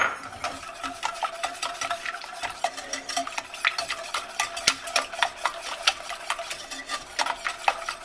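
A spoon stirs eggs into a pot of elk chili, giving a steady run of quick scraping clicks and taps against the pot, continuous and fairly close, with no talking.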